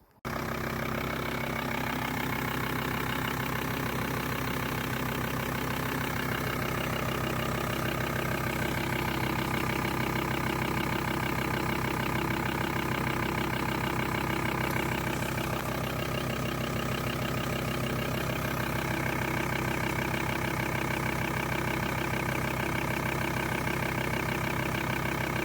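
A Volkswagen T4 diesel engine turns over and settles into a steady, loud idle right after a fuel filter change, running continuously close by with no voices.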